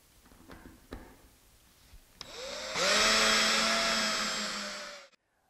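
A power drill drives 1.5 inch wood screws through plywood into a framework, whirring up sharply and holding a steady loud buzz for about three seconds before stopping, after a few faint taps.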